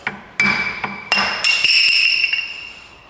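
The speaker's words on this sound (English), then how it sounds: "just a small tap with a hammer and a screwdriver" A hammer strikes a screwdriver several times while loosening the rear wheel bearing on a Golf Mk4: sharp, close metallic taps with ringing, bell-like overtones that hang on between blows, no talking.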